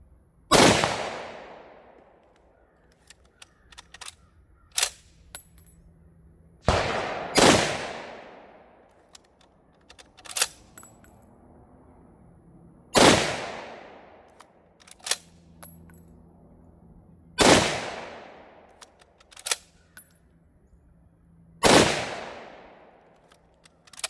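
Five sharp, loud gunshots from an Egyptian Hakim 8x57mm semi-automatic battle rifle firing Yugo ammunition, spaced several seconds apart outdoors, each crack followed by a long decaying echo and small metallic clicks of handling between shots.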